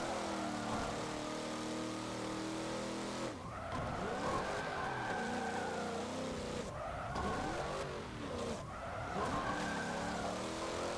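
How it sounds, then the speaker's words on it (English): A police car in the Forza Motorsport 7 racing game skids with squealing tires and slides into a wall, engine revving loudly as the tires screech in repeated sweeping bursts. "Slid right into the wall."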